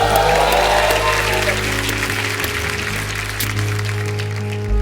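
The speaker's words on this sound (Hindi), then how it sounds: "जोरदार तालियां।" Loud applause from a studio audience on a comedy show, a dense continuous wash of clapping for several seconds over a low background tone.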